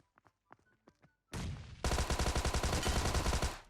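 A grenade explosion in the mobile battle royale game PUBG Mobile: a few quiet clicks, then a loud blast that rolls into a dense, rapid burst of crackling gunfire-like pops lasting nearly two seconds.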